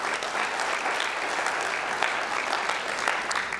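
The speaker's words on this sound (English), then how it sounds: "Go ahead and clap for that." An audience at the 2023 City of Romulus State of the City Address claps, a continuous, moderately distant wash of applause from a large room with no voices over it.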